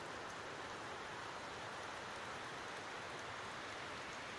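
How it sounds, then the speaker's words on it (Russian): Capilano River, a boulder-strewn mountain river in Vancouver, rushes steadily in a dense, continuous roar of broadband water noise, close and unbroken with no voices. "Настоящая горная река."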